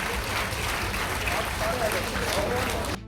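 Loud, steady applause from a crowd at a felicitation ceremony held at a legislator's residence honouring a health minister, continuous dense clapping that cuts off abruptly at the end.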